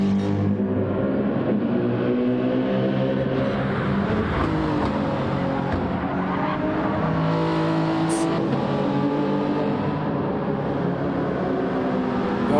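A race car at the Nürburgring's Schwedenkreuz section brakes and shifts down to second, then upshifts to third on the corner exit. Its engine drones steadily and loudly with rising and falling pitch and no talk.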